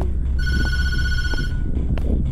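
A telephone rings in the indie horror game Tattletail, a steady electronic trill of about a second, heard over dark, droning background music with occasional soft thumps.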